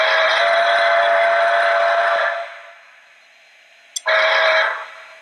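A Lionel LionChief Plus 2.0 Santa Fe Berkshire #4101 model steam locomotive sounds its whistle in a long, steady blast, falls quiet, then after a small click blows a second shorter blast, clear and close.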